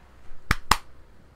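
Two sharp hand claps about a fifth of a second apart, loud and close, with near silence around them, made as a sync check during a live game stream.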